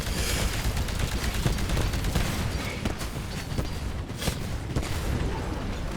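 A dense, loud barrage of gunfire and booming blasts in the Titanfall shooter game, including a cannon weapon that works like a rocket launcher, rapid overlapping shots and explosions filling the whole stretch.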